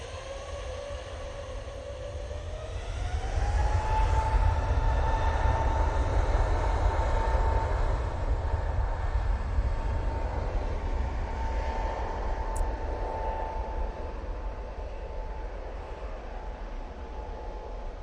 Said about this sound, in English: Easyjet making its way over towards us.